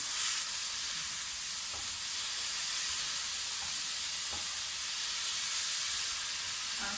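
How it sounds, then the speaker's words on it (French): Spices simmering in a pan with a splash of water, a steady soft sizzle and hiss held close and level throughout, with faint clinks now and then. "Mettre juste un tout petit peu d'eau. Pour faire mijoter les épices."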